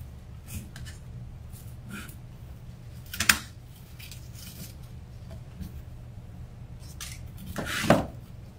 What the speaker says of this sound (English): You're going to clip off the zip tie tails